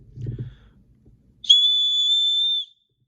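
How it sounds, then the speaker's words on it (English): A brief low rustle, then a single shrill whistle blast held steadily for about a second before cutting off sharply. "it has a decent little whistle actually"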